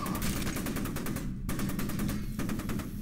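Rapid automatic gunfire bursts in the video game F.E.A.R. 2 Project Origin, a dense string of evenly spaced shots that briefly stops and then resumes, loud and close throughout.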